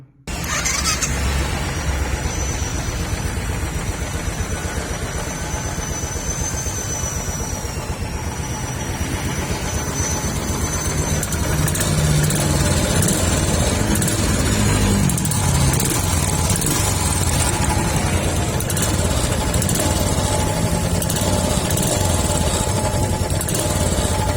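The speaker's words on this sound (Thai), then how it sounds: "ฟังเสียงเครื่องยนต์ครับ" A 2019 Bullet Trails pickup with 19,000 km on it idles steadily and close, a continuous even engine rumble with a slight rise partway through, and no talk.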